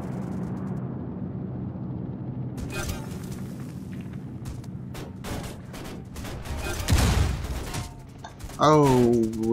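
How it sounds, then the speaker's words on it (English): Heavy rocket blast and scattered gunfire in a Death Race vehicle combat game, booms and impacts rumbling under ongoing engine noise, with a person talking over the action. "Oh, wait, that was a rocket, wasn't it?"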